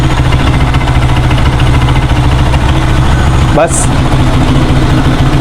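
A StarLight 200 motorcycle with twin disc brakes idles close by in a steady, loud, even drone, while someone speaks over it.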